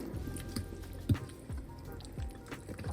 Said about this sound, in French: Je remue le tout